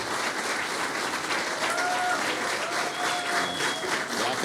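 Audience at a book and poetry talk applauds steadily, a full, even clapping crowd throughout, moderately loud, with faint voices underneath.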